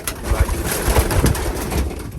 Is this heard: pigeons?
yes